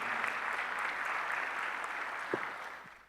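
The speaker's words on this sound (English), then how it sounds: "there was a lot of clapping" An audience claps after a presentation at an international astronaut meeting, a dense, sustained applause that fades toward the end, with no voices over it.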